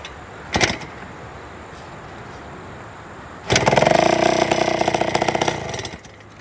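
An Indian ME 100 motorcycle that sat for years, with its carburetor hand-choked, gives a short pop and then its engine catches and runs roughly and loudly for a couple of seconds before cutting out.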